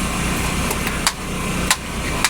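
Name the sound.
boat motor engine running slowly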